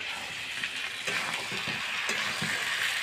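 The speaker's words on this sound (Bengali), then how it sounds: "আলুটা দিয়ে দিলাম, ভাজা আলু। এবার নাড়াচাড়া করে নেব।" Goat meat and fried potatoes are stirred in a cooking pan, with a low sizzle and scraping, clinking utensil strokes repeating every few tenths of a second, close and steady.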